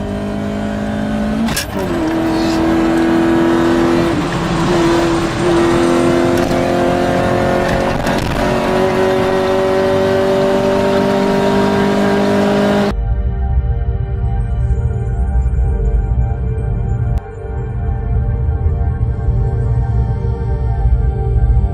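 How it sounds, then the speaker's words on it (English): Street racing cars speeding through a city at night, engines loud and close, revving and rising in pitch as they accelerate, then a shift to a lower, rumbling engine drone that carries on to the end. "racing through the city at speeds that may be well over 200 kilometers an hour"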